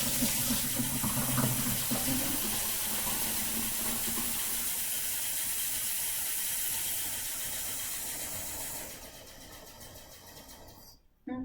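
Tap water runs into a plastic bottle, a steady loud hissing rush that holds for about nine seconds, then cuts off abruptly, followed by a brief knock.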